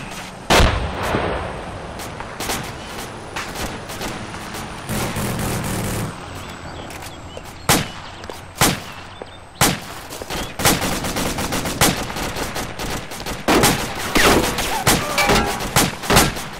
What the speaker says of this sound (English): I think we're taking fire from the east.